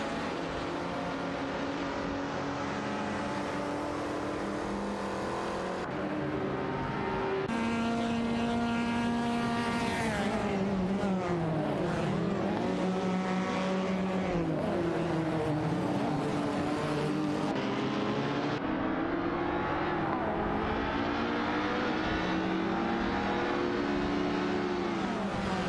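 Race cars in an AI racing video game whine and rev continuously, engine pitches sweeping up and down through gear changes as several cars pass one another, loud and steady throughout with no voices.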